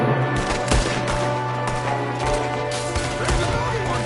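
Gunfire in the video game Red Dead Redemption 2: a dense, rapid volley of close shots over a steady engine-like hum, with voices shouting underneath.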